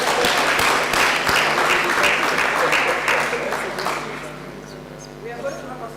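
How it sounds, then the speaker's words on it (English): A crowd applauds at the launch of the ARUA Centre of Excellence for Non-Communicable Diseases, with dense, loud, sustained clapping that gradually tapers off toward the end and a voice faintly audible beneath it. "Could you clap for us again?"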